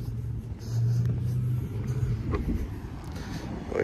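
A car passes nearby with a low engine rumble that swells and then eases off over a few seconds, with no talking.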